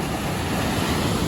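Water rushes at Kaigal waterfall in a continuous, dense roar, loud and close, with no pauses or voices.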